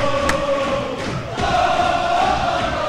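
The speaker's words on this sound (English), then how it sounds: "DRS crowd is loving it here" A high school varsity basketball crowd cheers and shouts in a gym, a steady loud roar with a few sharp whistles and whoops rising above it.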